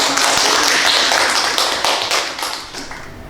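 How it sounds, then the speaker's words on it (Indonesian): A room of students clapping at the close of a university lecture, dense and loud at first with many hands overlapping, then thinning and fading out over a few seconds, with no talking. "Oke, tepuk tangan."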